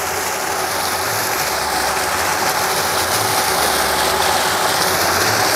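An electric JET 3000 water pump runs at full output, a loud, constant mechanical whir with a rushing water roar, unbroken throughout with no talking.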